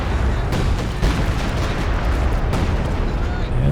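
Howitzer artillery fire in Company of Heroes 2, a dense, continuous wall of booming gunfire and explosions with sharper blasts near the half-second, one-second and two-and-a-half-second marks, loud throughout.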